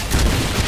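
Dense, sustained gunfire and booming blasts from the Doom Project Brutality video game, a loud continuous barrage of overlapping shots with no gaps.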